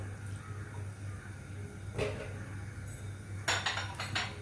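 Quiet scraping and clinking of a utensil stirring masala khichdi in a metal pressure cooker, a few brief clatters over a low steady hum.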